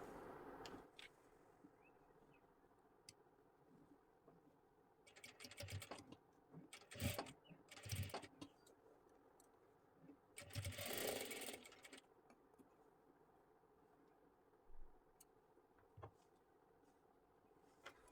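Domestic sewing machine stitching a trending puff sleeve design, running in several short bursts of a few seconds each with quiet pauses between, moderately loud and close.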